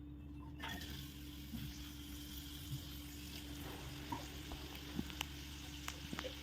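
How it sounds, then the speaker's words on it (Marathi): A spoonful of oil with onion frying in a kadhai, giving a faint, steady low sizzle with a few soft clicks and stirs near the end, heard alone without voices. "कढईमध्ये 1 चमचा तेल घातलेला आहे. त्यात आपण आता कांदा छान भाजून घेऊया."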